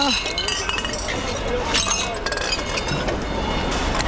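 Glass kitchenware clinking and crunching as discarded dishes are rummaged through, bright scattered clinks of broken glass under continuous background chatter and movement.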